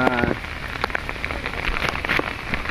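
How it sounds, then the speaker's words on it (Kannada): Heavy rain pours down outdoors, a dense, steady hiss of drops hitting surfaces with scattered louder splatters, fairly close and continuous. "ನೋಡ್ಬೋದು ಜೋರಾದ ಮಳೆ ಬರ್ತಾ ಇದೆ ಒಂದು ಕಡೆಯಲ್ಲಿ"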